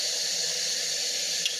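Cold water runs steadily from a kitchen tap in an unbroken hiss and splash, close by and fairly loud, with no voice over it.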